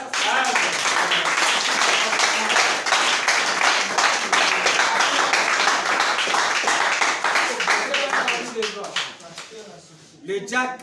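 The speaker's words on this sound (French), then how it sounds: "Acclamons très fort." A church congregation applauds loudly during a French-language worship service. Many hands clap in a rapid, rhythmic patter that holds steady for several seconds and then thins out, with voices mixed in.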